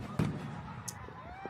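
Fireworks cakes that have tipped over on the ground, firing together: a sharp boom followed by a crackling burst, with scattered pops and a brief rising whistle, heard amid background voices at moderate distance.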